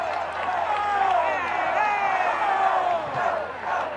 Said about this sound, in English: Geneseo's crowd comes to their feet again, asking for go, go, go